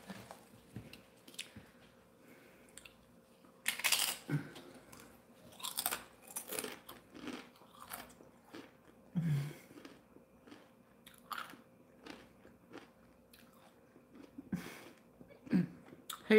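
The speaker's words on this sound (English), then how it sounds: "You want me to crunch louder?" Loud, close crunching and chewing while eating during a casual wine-drinking livestream, with repeated bites and crunches coming in irregular bursts over a quiet background.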